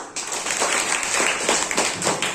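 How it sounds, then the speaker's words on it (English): Students clapping for a classmate named Kritika in a classroom, a brief steady round of hand claps, close and fairly loud, with a faint voice underneath. "We can clap for Kritika."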